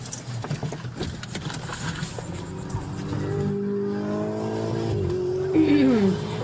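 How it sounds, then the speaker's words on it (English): A Ferrari tears along at roughly 110–130 mph in a police chase, its engine note climbing steadily through the gears into a loud sustained wail that peaks near the end. "we estimate the Ferrari is traveling between 110 and 130 miles per hour."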